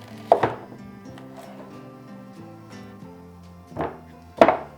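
A knife chops the ends off an onion on a board, a few sharp, close thunks, two together at the start and two more near the end, over a quiet musical background with no talking.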